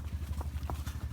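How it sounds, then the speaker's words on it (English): A horse ridden in Mexico clip-clops in a rapid, steady rhythm of hoofbeats, fairly faint and close, under low rumbling background noise. "Riding a horse in Mexico."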